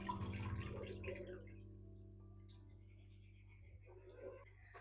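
Soaking water from overnight kabuli and black chickpeas poured onto potted plants by a window, a brief splashing pour that tapers into a faint trickle and a few drips.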